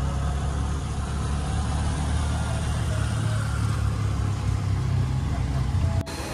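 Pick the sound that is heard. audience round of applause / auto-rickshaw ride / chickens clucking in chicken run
auto-rickshaw ride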